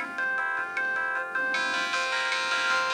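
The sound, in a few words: mobile phone power-on startup sound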